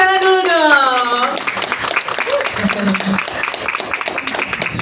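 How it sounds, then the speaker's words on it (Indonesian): A voice speaks briefly at the start, then a small audience at a health talk breaks into brisk, crackling clapping that carries on to the end. "beri tepuk tangan dulu dong"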